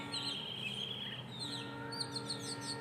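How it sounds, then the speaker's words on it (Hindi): An Asian koel calls on a cool early morning, faint and distant, amid scattered small-bird chirps over a steady low background hum. "देखिए कहीं ना कहीं कोयल बोल भी रही है अभी"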